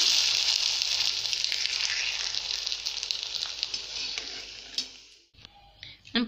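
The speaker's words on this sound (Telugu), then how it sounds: "ఇప్పుడు మనం వీటిని ఆయిల్లో ఫ్రై చేసుకుందాం." Mint rice vadiyalu fry in hot oil with a loud, dense, hissing sizzle that gradually softens. It cuts off abruptly near the end, followed by a few faint clicks.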